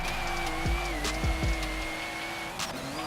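Porsche 964 Turbo race car in a video game, its engine holding a steady droning tone with a few sharp low thumps and a brief shift near the end, loud and continuous throughout.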